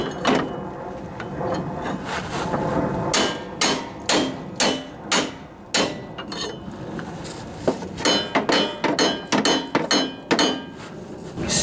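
Repeated sharp hammer blows ring out up close on an old riding lawnmower's metal, some bright and metallic, landing in uneven bursts with short pauses between strikes.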